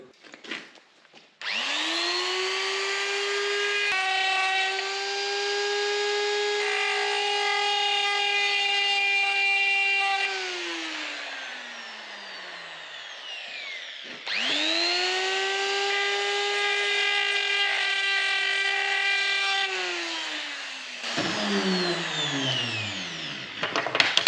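A reamer bites into a Honda 450 part clamped in a vise, giving a loud, steady mechanical whine in two long runs. Each run holds for several seconds, then winds down.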